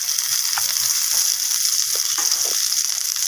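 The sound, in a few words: potato and cucumber being fried and stirred in pan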